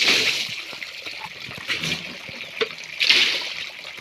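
Water splashes and sloshes against a Bajaj RE CNG auto rickshaw being washed during a service, with irregular bursts of spray and trickling close by, no talk.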